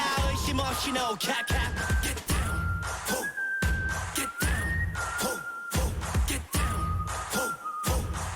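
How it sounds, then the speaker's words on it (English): A melodic whistled tune rides over a thumping, heavy-beat track, the whistle sliding between sustained notes. "Bringing that whistle back in is so good."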